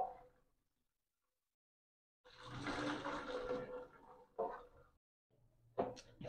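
Boiled zobo drink poured through a sieve, a steady splashing rush of liquid lasting about two seconds after a quiet pause, followed by shorter trickling bursts.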